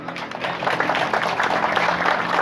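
An audience applauds during a community organization's religious gathering, a dense steady wash of clapping from many hands lasting a few seconds.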